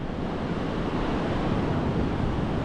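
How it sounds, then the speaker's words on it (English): Big ocean waves break on the north Cornwall coast at Perranporth beach, a steady, loud roar of surf mixed with gusty wind buffeting the microphone, with no talking. "There's some big waves out there."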